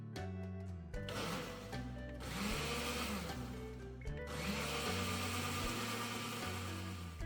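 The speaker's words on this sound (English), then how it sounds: "So empty that little baggie of powder into your blender cup and just give that a good blend" A countertop blender blends freeze-dried quiche powder in its cup, a loud whirring motor that revs in bursts with pitch shifts and brief pauses, heard alone.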